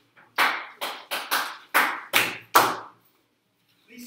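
A classroom of students claps in unison, seven sharp synchronized bursts in an accelerating rhythm, then silence.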